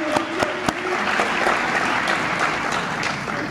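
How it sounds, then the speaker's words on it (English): Applause from a senior class at a high school senior night, a steady mass of clapping with a few sharper claps standing out near the start, sustained throughout. "So give yourselves a round of applause"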